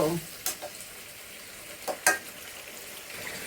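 Potatoes stir-fried (kosha) in a pan: a soft, steady sizzle with occasional scraping clacks of a spatula against the pan, heard close up with no talking.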